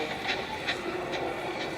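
Edward, the number 2 engine of the Northwestern Railway, runs along the track with a steady rhythmic clacking of wheels over rail joints, repeating roughly every half second.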